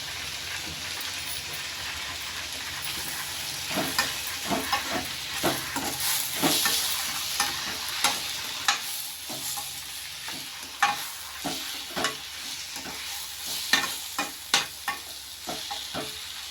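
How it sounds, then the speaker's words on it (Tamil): Tomatoes sautéing with garlic paste and salt in a pan, a low steady sizzle broken by a run of frequent scraping strokes and knocks from a stirring spoon, growing busier toward the end. "கொஞ்ச நேரம் தக்காளி வதங்குற வரைக்கும் கொஞ்சம் வேகட்டணும்"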